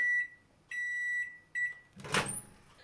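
Three beeps sound in sequence, followed by a short clunk and rustle, as an LG MC2841SPS microwave oven is started.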